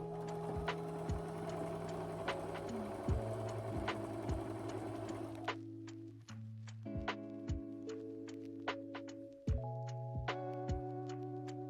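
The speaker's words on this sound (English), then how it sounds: "Then I sewed the two tops of the shoulders." A sewing machine stitches the shoulder seams of a cosplay top, running steadily with fast regular needle ticking and a low motor hum, pausing and restarting a couple of times, close and alone.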